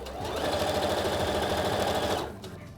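A sewing machine runs steadily through trouser fabric, a continuous close, even mechanical hum with rapid needle chatter that holds for about two seconds before slowing and stopping.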